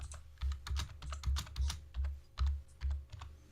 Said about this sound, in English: Is that Paul typing or Farmer?